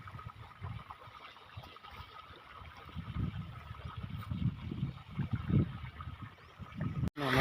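Irrigation water runs along a channel into a wheat field on a farm, giving a low, gurgling outdoor flow with surges and splashes that grows louder toward the end, with no voices.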